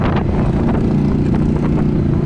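A Yamaha V Star 1100 motorcycle engine bogs down on throttle, giving a low, rough, uneven rumble with faint sputters and a constant wind-like rush, close and steady for about two seconds.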